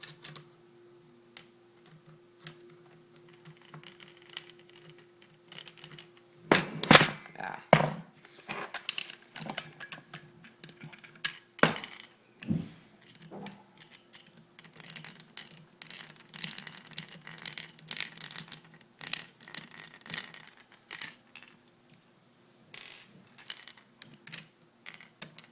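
Screws come out of an airsoft AK-47 with a screwdriver, making faint, close ticks, scrapes and small clicks in irregular bursts with a few louder knocks and no talking.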